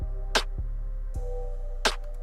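A trap beat with a percussion sample striking where a snare would land: two sharp bright hits about 1.5 seconds apart over a steady low bass and synth bed, no voice.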